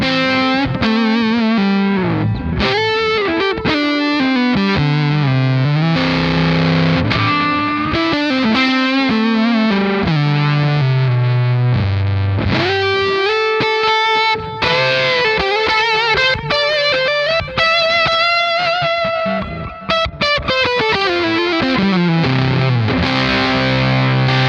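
A fuzz lead on electric guitar, played into a driven Marshall amp with Divided by 13 FTR 37 presets, sounds loud, saturated and sustained, with singing bent notes and melodic runs that carry on without pause and with no talking.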